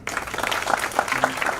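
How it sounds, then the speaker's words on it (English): Conference audience at a cloud community event in Bhopal breaks into applause, a brief burst of dense, evenly sustained clapping from a full room, fairly loud and close. "a huge round of applause"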